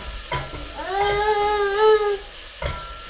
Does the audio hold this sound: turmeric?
yes